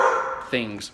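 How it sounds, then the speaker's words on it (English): Dogs bark in a couple of sharp, close yips behind someone speaking indoors. "Sorry about the dogs and all that stuff"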